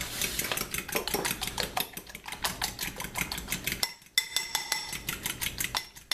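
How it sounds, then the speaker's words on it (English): Rapid clinking of a fork beating eggs in a bowl, fast irregular taps in bursts with a brief pause midway, close and clear. "now I like to scramble with a fork"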